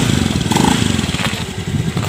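Motorcycle engine running steadily and close by, a rough, pulsing drone that holds for about two seconds with a brief higher tone partway through.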